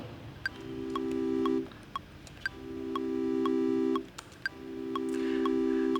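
Synthesizer notes held for over a second each, every one swelling gradually to full volume over about a second, three long tones in a row with faint clicky ticks scattered between them.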